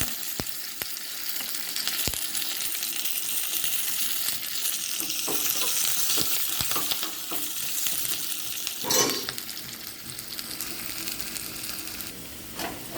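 Shallots, dried chillies and curry leaves fry in oil in a pan, a steady dense sizzle that continues throughout, with occasional scraping stirs and a louder spatter burst partway through, close up with no talking.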